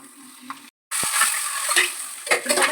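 Eggs fry in oil with chilli powder in a pan, a close, hissing sizzle with light clinks of utensil against metal, briefly cut to silence before the frying noise returns louder.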